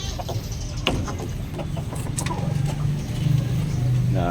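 Chickens and roosters on a small farm flock of laying hens, Rhode Island and Black Australorp among them, clucking and calling in scattered bursts over a steady low background hum, fairly close.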